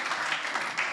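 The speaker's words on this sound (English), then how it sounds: "Everybody give a round of applause for Debbie Libby." Brief audience applause at a team meeting, a soft, steady clatter of many hands clapping at a distance for about a second.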